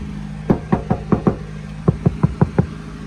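Doors of a 1995 Ford Econoline 250 4x4 camper van with Dynamat insulation inside close with solid, dull thuds, ten in two quick groups of five, near and loud over a low idle-like hum.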